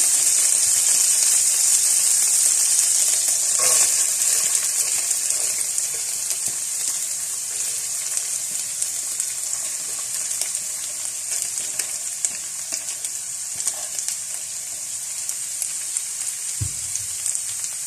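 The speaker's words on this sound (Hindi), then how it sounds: "अब मैं वेजिटेबल्स डालूंगी।" Vegetables hit hot oil in a pan and fry with a loud, hissing sizzle that eases slightly after the first few seconds into a steady crackle, with scattered stirring clinks and a dull knock near the end, no voices.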